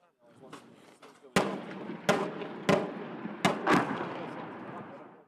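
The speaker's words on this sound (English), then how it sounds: "In prolonged artillery and mortar barrages." Artillery and mortar barrage pounding a city: several sharp, loud blasts land at irregular intervals, each a sudden broadband crack trailing into rumbling reverberation, over a continuous low roar of distant fire.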